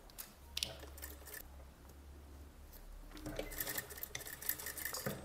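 A sewing machine stitches the straps onto a pair of shorts, running back and forth to backstitch them firmly. A low steady motor hum comes first, then busier, brighter clattering runs of stitching close by.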